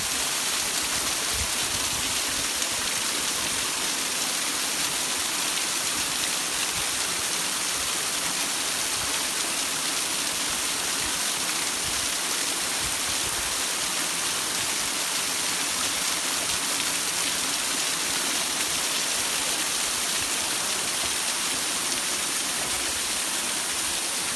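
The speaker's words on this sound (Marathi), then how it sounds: "हा एक मिनी धबधबा" Small waterfall at a hidden tribal tourist spot pours steadily, a dense, continuous rushing of water close by, loud and unbroken throughout with no voices.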